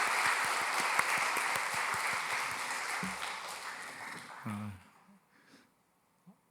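A church congregation at a Sunday service claps steadily together for several seconds before the applause trails off into near silence, with a couple of faint stray sounds at the end.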